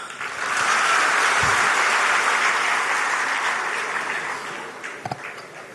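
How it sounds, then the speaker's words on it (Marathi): A crowd at a poetry event claps loudly and continuously, a dense sustained roar of applause that gradually tapers toward the end, with a couple of sharp knocks near the close. "जरा जोरात टाळ्या वाजवा."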